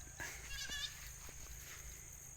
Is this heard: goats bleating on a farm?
yes